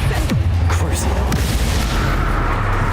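Confringo fire-blast spell exploding in the video game Hogwarts Legacy: booming impacts roll over a dense, constant wash of battle noise and game score, with deep low thumps near the start and again around the middle, while a voice speaks.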